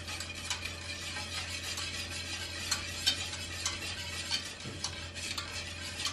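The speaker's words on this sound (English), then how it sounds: "You can feel the resistance from the whisk as you're moving it around." A whisk scrapes and stirs thickening crema catalana custard in a pan at home, steady close metallic swishing strokes with small clinks against the pan, alone without voices.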